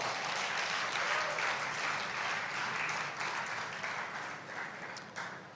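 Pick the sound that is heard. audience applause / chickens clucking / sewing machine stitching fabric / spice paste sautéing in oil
audience applause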